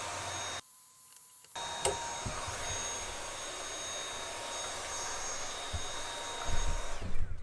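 A vacuum cleaner roars steadily at close range while sucking hornets off a nest, briefly cutting out near the start before resuming its loud, continuous drone, with a few knocks and bumps toward the end.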